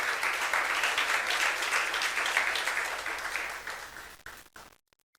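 A congregation claps during a youth church service, a steady wash of many hands at moderate distance that gradually thins and breaks up before cutting to silence.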